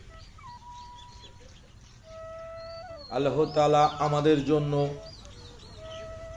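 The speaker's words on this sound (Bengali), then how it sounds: "পাখিদের কিচিরমিচির শব্দে" Birds in the village countryside, with scattered faint chirps and whistled calls around a quiet outdoor setting, while someone speaks in the middle.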